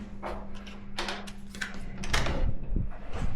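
A hotel door opening and closing, a few sharp clicks and latch knocks followed by a louder clunk and scuffing, close by over a low steady hum, with no speech.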